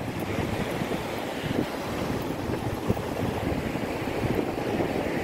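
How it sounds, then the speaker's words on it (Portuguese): Strong east wind of about 25 km/h buffeting the microphone during a bike ride on sand, a dense continuous roaring rumble with occasional gust bumps and no speech. "Vento de leste. Vento de 25 quilômetros."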